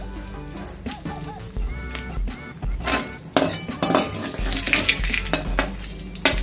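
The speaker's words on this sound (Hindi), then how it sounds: "तो यहाँ पे मेरे जो जीरे हैं वो क्रैक हो चुके हैं।" Cumin seeds crackling in hot oil with asafoetida and bay leaf, a close, busy sizzle scattered with small pops and occasional utensil clinks against the pan.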